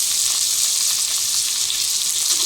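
Chopped onion and green chillies sizzle loudly and steadily in hot oil in a pan for a vegetable khichdi, a dense crackling hiss that stays even throughout with no talking.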